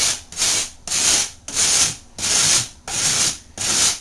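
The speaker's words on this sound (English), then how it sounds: "you can just use this rasp" A hand drywall rasp scrapes along the edge of a drywall panel in about seven steady back-and-forth strokes, each a loud, gritty, close rasp with short pauses between.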